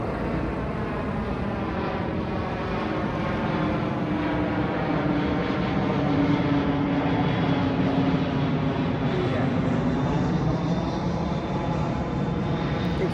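An airplane flies low overhead while coming in to land, a loud, steady drone of aircraft engines that holds throughout at close range.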